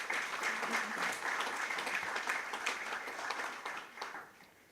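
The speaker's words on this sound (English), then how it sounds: "Give them a round of applause, please." An audience at a Central Bank council handing-over ceremony gives a round of applause, a continuous even patter of many hands at moderate distance that thins slightly toward the end.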